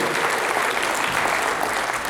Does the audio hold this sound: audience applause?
yes